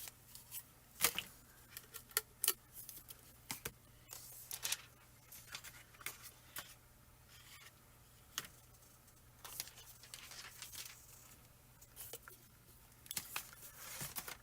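Scissors snip through rolled deco foil for toner foiling, giving scattered crisp cuts and light crinkling taps spread irregularly over a quiet room, close and fairly soft.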